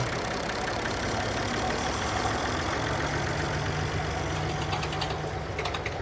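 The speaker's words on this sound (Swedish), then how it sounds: "Den har en trecylindrig Parklins dieselmotor." A tractor's three-cylinder Perkins diesel engine runs at a steady idle during a tractor parade, a close, continuous low knocking chug.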